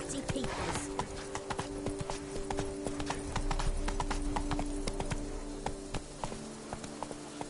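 A horse in the video game Witcher 3 trots with steady, close clip-clop hoofbeats throughout, over an ambient game background with a brief whinny-like tone at the start and speech in the game.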